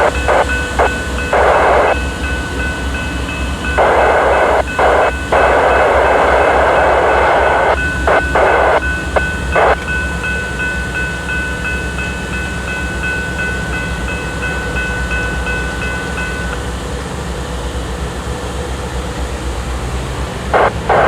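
A stopped CN freight train idles loudly with a steady mechanical rumble and hiss, broken by several bursts of air release and tonal whine from the rail cars.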